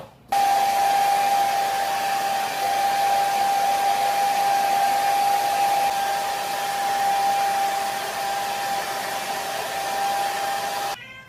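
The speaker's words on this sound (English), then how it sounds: "Now we blow dry." A hair dryer blows steadily while drying freshly sprayed hair, a loud constant whir with a fixed high hum, switched on at the start and off at the end, with no talking.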